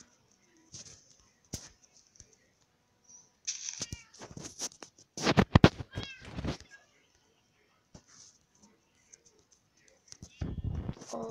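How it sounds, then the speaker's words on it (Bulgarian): Kittens on a farm give a series of high, thin meows in scattered bursts, close to the microphone, with a person's voice heard now and then between them. "Котенца."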